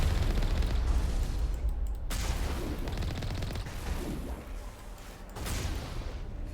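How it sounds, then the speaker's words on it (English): Mass Effect combat with a Geth turret: loud, rumbling booms and blasts roll through a dense wash of battle noise, with several heavy impacts a couple of seconds apart. "Sorry, that was a really fun explosion."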